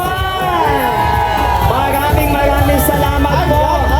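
A loud crowd at a street parade outside Pasig Mega Market cheers and shouts continuously, with whoops and excited voices layered over a dense, steady roar.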